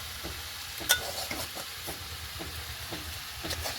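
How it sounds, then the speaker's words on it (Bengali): Fish fries in a pan with a soft, continuous sizzle, broken by occasional light clinks and scrapes of stirring, quiet and close. "মাছ ভাজার সাথে সাথে কচুর পাতার যে তরকারিটা সেটা কিন্তু হয়ে গেছে"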